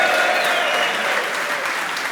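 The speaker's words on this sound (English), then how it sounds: "So give him a round of applause" Hearty applause from a packed live audience at a hurling show in Liberty Hall, dense and steady throughout with no voices over it.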